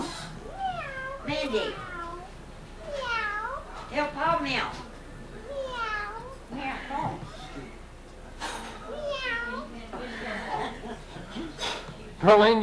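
A voice imitates a cat with a string of rising and falling meows in quick bursts, mixed with chuckles and other voices nearby in a home setting.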